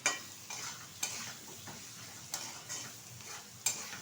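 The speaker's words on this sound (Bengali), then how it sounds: "ভালোভাবে কিন্তু সবগুলো উপকরণ একসাথে ভেজে নিয়েছে আর সিদ্ধ হয়ে গেছে" Mixed fried rice ingredients seasoned with pepper being stir-fried together in a pan: a low sizzle broken by several sharp spatula clacks at irregular intervals, quiet overall and with no voices.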